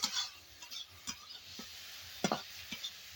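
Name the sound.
prawns frying and being stirred in oil in a pan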